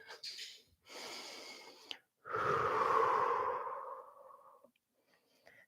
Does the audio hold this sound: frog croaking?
no